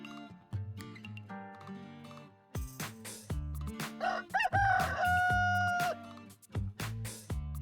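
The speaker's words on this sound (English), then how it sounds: "they got wild chickens running around in these open markets." A rooster crows once, a rising then sustained call, amid the busy clatter, engine noise and background voices of an outdoor open market.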